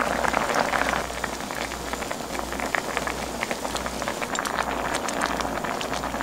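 Radish tteokbokki sauce boils steadily in a pot, a dense bubbling crackle with a low steady hum beneath it, continuous and close, with no talking.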